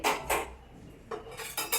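Metal kadhai woks clank and scrape as they are handled in a kitchen cupboard, with several sharp bursts of metallic knocking close by and no talking.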